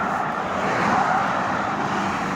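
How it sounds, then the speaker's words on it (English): Cars pass along a road in a continuous, fairly loud broadband roar of traffic, steady throughout with no talking. "Bloody noisy cars. Why can't they be quiet?"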